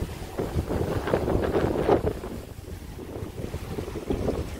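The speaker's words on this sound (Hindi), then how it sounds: "तो हवा की आवाज़ें जो है माइक पे आ रही होंगी" Strong gusts buffet the microphone outdoors in a dusty, dirt-covered area, with a low rumbling roar that swells and eases unevenly.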